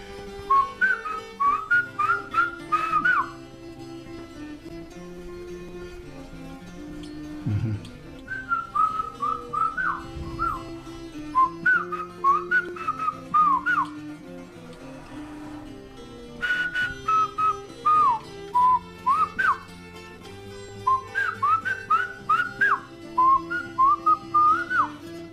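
Clear, high whistled-language phrases carry spoken instructions in bursts of rapid rising and falling notes, repeated in several groups with pauses, over faint low background sound.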